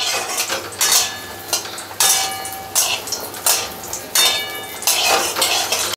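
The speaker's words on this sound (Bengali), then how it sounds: "আমি কড়াইতে একটু তেল দিয়েছি, এবার আমি কটা বড়ি ভেজে নিচ্ছি।" Lentil dumplings (bori) frying in a little oil in a wok, heard as soft sizzling broken by repeated loud scraping and clattering bursts of a spatula stirring against the pan, roughly one every second.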